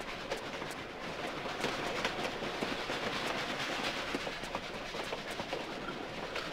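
A train rolls along in a Tomb Raider Level Editor custom level, with a steady rumble and a rapid run of metallic clickety-clack beats that continues without any talking.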